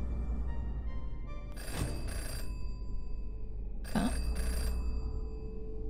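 A telephone rings in the Jenny LeClue video game, two bursts of trilling bell rings a couple of seconds apart, moderately loud over a quiet background hum.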